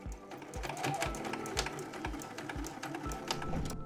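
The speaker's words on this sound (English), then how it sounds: "I'm going to sew over it, watch out for the metal, and I'm going to reinforce it with a couple extra rows of stitches." A sewing machine stitches over the metal of a zipper on a small bag, rapid even needle thumps roughly every half second with a fast chattering run between, close and clear with no voices.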